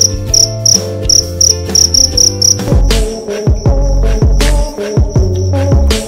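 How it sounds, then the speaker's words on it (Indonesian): Crickets chirp in loud, rapid, pulsing bursts close by, layered over a droning, rhythmic musical background with no talking. "suara jangkrik ini berguna juga loh untuk mengusir tikus-tikus di rumah"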